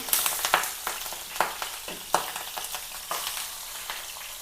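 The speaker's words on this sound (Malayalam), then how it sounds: "ഇപ്പം നമുക്കത് മീൻ വറുത്തെടുക്കാം" Pearl spot fish sizzles in a shallow pan with curry leaves, a continuous frying hiss punctuated by repeated scraping clicks of a utensil, close and without voices.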